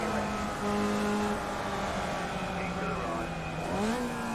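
Formula Vee race cars in iRacing at Oran Park buzz close together with high, nasal engine notes that rise and fall through shifts into a tight corner, continuous over the whole stretch.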